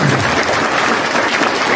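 Loud, sustained audience applause for the martyrs fills a hall, a dense and even roar of clapping that continues without a break.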